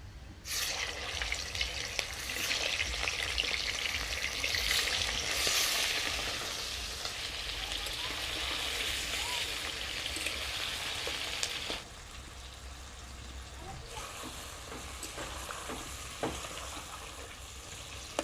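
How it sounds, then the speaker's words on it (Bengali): Steady crackling sizzle of chicken frying in hot oil, continuous and close, with a brief drop in intensity partway through; no talking. "ওই গরম তেলেই আমি কিন্তু মাংসগুলোকে আগে ভেজে নেবো"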